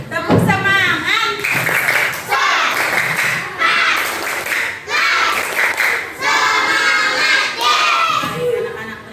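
Children in a classroom do a rhythmic 'tepuk semangat' spirit clap, bursts of hand claps mixed with chanting young voices and crowd noise, loud and close for several seconds.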